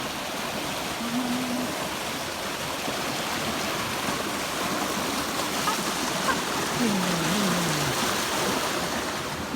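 A stream flows outdoors in Sweden, its steady broadband rush of water filling the scene at moderate level, with faint tonal bird calls or distant voices briefly surfacing above it.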